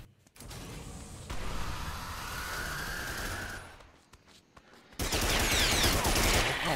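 Gunfire in the Primal Carnage multiplayer dinosaur shooter, a continuous burst of shots from about one to four seconds, then a louder, harsher volley from five seconds onward, fairly close and with no talk over it.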